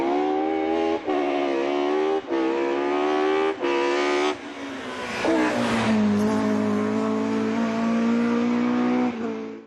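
A BMW E36 with an M42B21 four-cylinder engine revs repeatedly through a new custom TIG-welded exhaust, loud and close, with sharp rising blips followed by a longer sustained rev that slowly settles.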